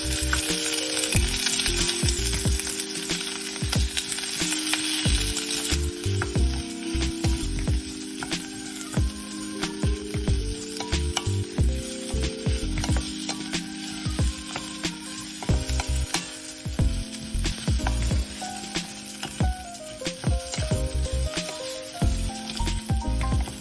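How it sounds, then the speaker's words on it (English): Sliced onion fries in oil in a pot for a vegan Japanese cream stew, a dense continuous sizzle and crackle, with music playing prominently throughout. "Add the sliced onion and cook until slightly browned."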